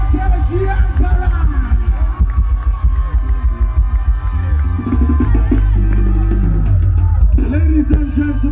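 Live audience at a traditional chutney music show roaring and cheering continuously over loud stage music, with bursts of yelling rising and falling throughout.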